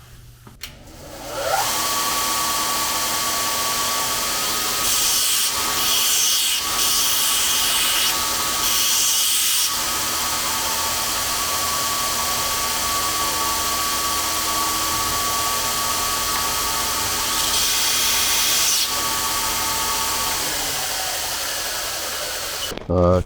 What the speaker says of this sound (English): So I'm going to sharpen the tungsten